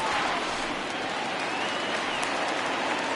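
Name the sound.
baseball stadium crowd cheering, video game MLB The Show 20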